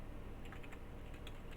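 Keyboard typing during a Fallout game session, a steady run of soft, quick keystrokes close by over a constant low background hum, with no voices.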